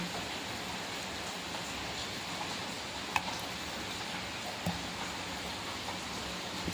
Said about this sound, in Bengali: এবার বাইরে বৃষ্টি পড়ছে